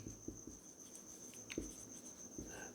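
Faint, scratchy strokes of writing on a board during a maths lesson on trigonometric ratios, a few short sharp marks scattered over a quiet room hum.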